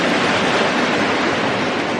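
Ocean waves wash and rush against a sailboat heeling at sea between George Town and Crooked Island at night, a loud, steady broadband roar of surf and wind with no break and no voices.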